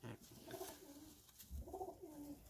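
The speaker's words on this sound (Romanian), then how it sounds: "pentru început vă prezint acești doi porumbei" Two racing pigeons coo in two soft, rolling phrases, close and fairly quiet against a faint background.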